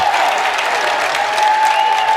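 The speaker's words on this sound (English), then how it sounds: "Viking bench cheering the defense on" At a high school basketball game, a crowd cheers and claps continuously, with a bench joining in and a sharp whistle-like tone running through the noise.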